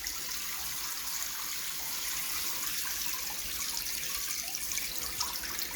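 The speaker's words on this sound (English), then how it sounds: "just turn on the water. So all the air and the water come out of this hose" Water and trapped air rushing out of a Moen shower hose after the supply is turned back on, a steady hiss and splash running throughout at moderate, even level.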